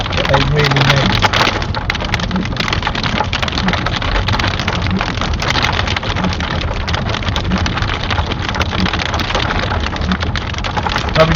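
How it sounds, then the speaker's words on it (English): Hailstones drum on a car's roof and windscreen while driving through a storm, a dense, loud, continuous clatter with scattered sharper hits over road noise and a speaking voice. "So we've got this hail now"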